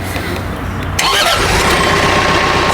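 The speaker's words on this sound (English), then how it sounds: "Let me turn the tractor on and we'll show that moving right quick." A new tractor's engine cranks and catches, then settles into a steady, loud, close idle.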